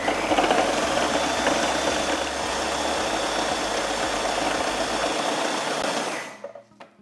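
Blender blitzing acai berry bowl ingredients, a loud close continuous motor roar with a low churning undertone that winds down and stops near the end.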